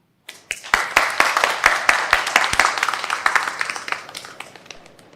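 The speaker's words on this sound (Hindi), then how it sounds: "तो तालियों से स्वागत कीजिए गुलिन का और ये जियांग का" Studio audience applause greeting performers on a dubbed drama show: a burst of close, crisp clapping that swells quickly and then thins out over a few seconds.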